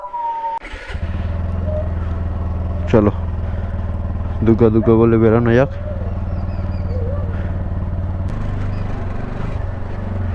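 A motorcycle readied for a long road trip rumbles steadily at idle, with short revs and engine surges while someone speaks over it.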